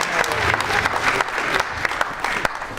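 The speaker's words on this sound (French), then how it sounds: "On peut applaudir monsieur le député l'accueillir." An audience at an apprentice awards ceremony claps steadily, a dense patter of many hands filling the room at moderate loudness.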